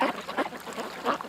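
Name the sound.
ducks quacking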